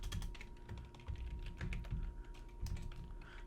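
Quick irregular clicks of a computer keyboard as a password is typed during Gmail setup, close and soft, with short bursts of keystrokes and brief pauses.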